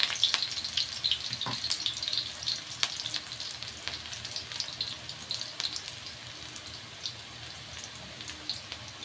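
Onion and tomato sautéing in a pan for a guisado with sigarilyas (winged beans), a steady crackling sizzle with scattered sharp pops, close and continuous with no talk over it.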